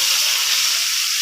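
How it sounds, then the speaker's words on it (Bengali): Fish sizzling in hot oil in a frying pan, a loud bright continuous crackle and hiss with no talking. "তো মাছগুলোকে আমি একটু ভালো করে ভেজে তুলে নেব।"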